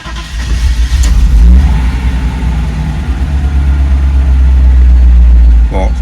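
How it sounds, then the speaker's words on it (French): A Mercedes 500SL R107 with K-Jetronic fuel injection cold-starts and then idles: a brief starter crank, then a loud, steady, deep engine drone that holds, with a short click near the end. "Voilà, tenter un démarrage à froid."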